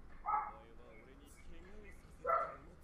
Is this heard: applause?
no